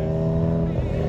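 Drag racing car revs during a tire warm-up before the launch, a loud steady engine drone with harmonic tones throughout this brief moment, close by.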